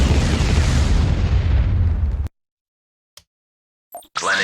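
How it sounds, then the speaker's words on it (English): A bombing run in the strategy game Star Wars: Empire at War sets off a loud, deep, rumbling explosion that lasts about two seconds and cuts off sharply, followed by a few faint, brief game sounds. "Initiate bombing."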